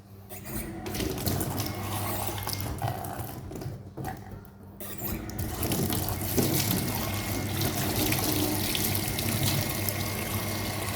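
Water running steadily from a household tap after its tip was cleaned, a close, continuous splashing flow with a faint motor hum from a domestic water pump beneath it.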